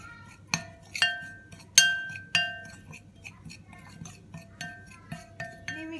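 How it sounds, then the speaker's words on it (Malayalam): Grated jaggery being mixed with other ingredients in a bowl for grilled pineapple, heard as a spoon striking the bowl in sharp, ringing clinks at an irregular rhythm, close and clear with little else around. "ഇനി എല്ലാം കൂടെ ഒന്ന് മിക്സ് ആക്കി എടുക്കാം"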